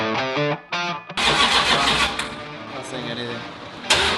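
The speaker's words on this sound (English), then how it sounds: "There is no exhaust on it currently, so it literally rumbles this entire building when it fires" An unmuffled Fast & Furious Dodge Charger engine with no exhaust fitted cranks and fires up indoors, a loud raw roar bursting in after a short spoken phrase and rumbling on steadily, with a brief rise near the end.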